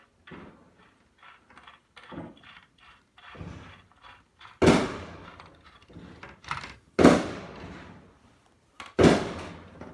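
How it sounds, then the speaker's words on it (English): Fireworks going off outside a home, heard from indoors: three loud, sharp booming bursts spaced a couple of seconds apart, with fainter crackling pops scattered in between. "And the fireworks are going off."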